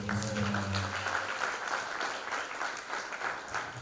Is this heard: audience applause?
yes